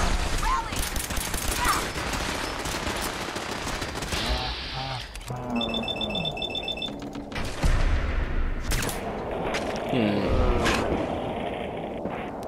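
Rapid bursts of automatic gunfire and mechanical clanks from the video game Fallout 4, fighting near Liberty Prime, dense and layered with electronic effects under occasional talking.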